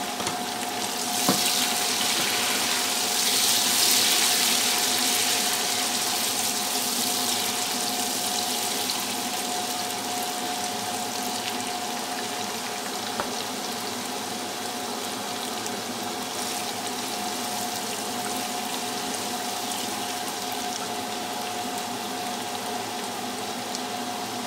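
Tomatoes sizzle in a pan of oil while cooking lobia masala, a white bean curry, giving a steady hiss and crackle with no talk over it.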